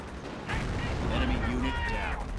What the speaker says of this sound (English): It's just these rifles from Hans here that are getting eaten up by the Ostwind and the Mortar